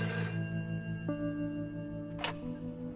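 A telephone rings with steady electronic tones, and a brief bright click or chime falls partway through. It happens during a phone call in the video game A Way Out, and no one speaks over it.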